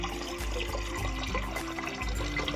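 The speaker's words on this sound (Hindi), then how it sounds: "अब हम डालेंगे 1 मग पानी।" A mug of water is poured into a pressure cooker set on a lit stove. The splash and gurgle is a continuous liquid rush with a low rumble underneath, close and moderately loud, with no talking.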